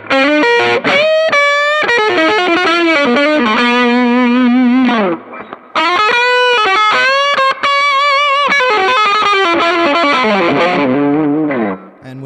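1986 PRS Custom electric guitar with the sweet switch, strummed chords and ringing single-note lines through an effects-heavy, overdriven tone, loud and continuous with a brief pause midway.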